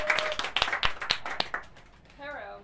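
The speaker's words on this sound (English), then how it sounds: "let's give a big round of applause" A small audience at a public speaking skill-share session gives a short round of distinct, fairly close hand claps that taper off. A voice begins speaking just as the clapping fades.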